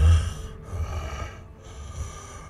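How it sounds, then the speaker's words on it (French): Person snoring in an episode of the sci-fi series Star Trek: Strange New Worlds, with low rough rasping breaths that rise and fall in a slow rhythm, close and moderately loud. "Ou alors il dort et il ronfle."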